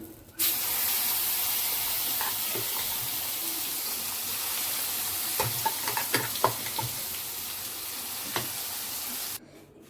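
An onion chutney mixture is tipped into a hot tempering and fries with a sudden, steady sizzle and hiss, punctuated by stirring scrapes and light clinks before cutting off near the end.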